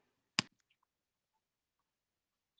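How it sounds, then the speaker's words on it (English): A single crisp finger snap, close and isolated, followed by near silence with only a few faint ticks. "So I'm gonna snap my fingers in 3, in 2"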